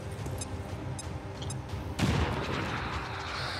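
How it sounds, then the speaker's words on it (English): A grenade explodes in the video game XCOM 2, a sudden loud blast about halfway through that trails off into rumbling debris after some quiet background clicks. "So what we're gonna do is we're gonna grenade you."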